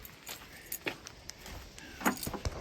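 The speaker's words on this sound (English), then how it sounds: "let's grab the keys here" Car keys for a third-generation Dodge jangle faintly in a hand, several small metallic clinks and rattles scattered over a quiet garage background.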